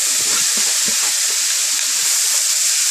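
Potatoes hit a hot pan with spiced mixture and sizzle loudly, a steady close hiss with a few soft thuds at the start.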